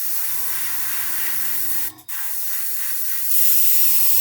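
An airbrush sprays primer in a continuous wet hiss, briefly cutting out for a moment before resuming, with a low mechanical hum from the compressor running underneath.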